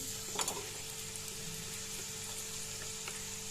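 Garlic and spices sizzle in hot oil for a Gujarati dahi tadka, a steady close frying hiss with a brief clatter near the start.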